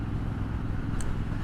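Steady engine drone and wind rush from a 2021 Triumph Street Scrambler motorcycle at motorway speed, heard from the rider's position as a continuous, loud, unbroken roar.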